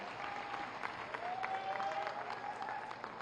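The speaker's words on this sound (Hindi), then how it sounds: "जोरदार तालियों के साथ उनका अभिनंदन करें" A crowd at a village event in Azamgarh applauds to welcome the Chief Minister, a sustained but fairly faint wash of clapping with a tonal hum running through it.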